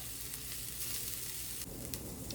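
Sausage and rapini sizzle and char in a hot pan, a steady close crackling hiss throughout with a brief stir or shift near the end.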